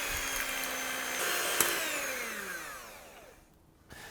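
An electric mixer whisks cream into soft whipped peaks for a pavlova, a steady close whirring hum that shifts in pitch as the speed changes, then cuts out briefly near the end before restarting.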